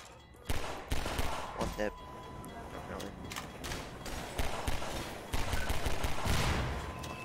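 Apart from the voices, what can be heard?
gunfire in video game Half-Life 2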